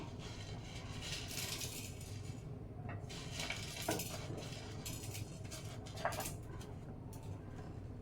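Black peppercorns dry-roasting in a pan over a low to medium flame, stirred gently with a spoon that scrapes and clinks against the metal in a steady, close rustle with a few sharper taps.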